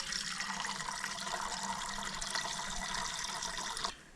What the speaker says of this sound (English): gotta filter some water